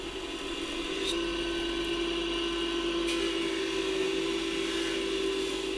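A grinding wheel sharpening scissors gives a steady, continuous whirring hum with a faint high grind, with no talk over it.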